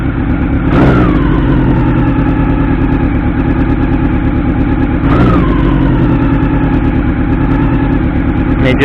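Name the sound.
1989 Honda CB-1 400cc inline-four motorcycle engine revving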